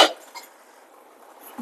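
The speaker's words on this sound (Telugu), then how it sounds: "ఇప్పుడు ఇది బాగా బాయిల్ అయినంత వరకు మనం మూత పెట్టేసుకుందాం." A lid set onto a pot of boiling fried chicken curry gives a sharp metallic clank, followed by near silence and a second faint knock at the end.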